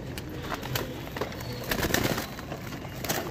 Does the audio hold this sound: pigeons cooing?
yes